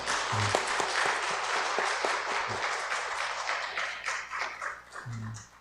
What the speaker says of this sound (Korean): 우리 다시 한번 크게 박수 한번 드릴까요?